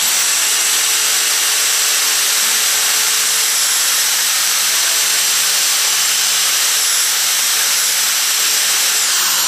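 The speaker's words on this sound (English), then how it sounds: "My wire feed is only a 120 welder, but this stuff isn't that thick, and if I crank it up, it'll be plenty" A 120 wire feed welder welding a thin steel compressor cart, a steady, loud, crackling hiss that runs unbroken for the whole stretch, close to the torch.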